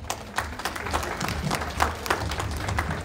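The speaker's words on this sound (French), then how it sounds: "je vous demande de vous applaudir vous-même" A crowd at a Catholic church's 20th anniversary celebration applauds briefly, with scattered claps at moderate loudness and a rough, uneven rhythm.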